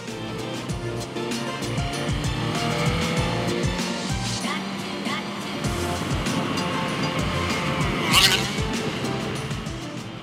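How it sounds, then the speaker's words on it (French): A small 50cc two-stroke moped passes along a street, its engine noise a steady mid-level drone that swells briefly toward the end amid general road ambience. "ça c'était un petit jeune en 50, 2 temps, vu l'odeur, le bruit"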